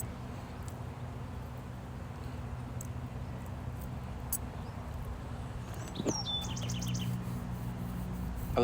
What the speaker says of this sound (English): I love when the birds chirp. It's a beautiful sound.